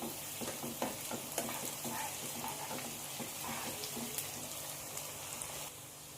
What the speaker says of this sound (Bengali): দিয়ে আবারও আমি 2 মিনিটের মতো আদা রসুনটা পেঁয়াজের সাথে ভালো করে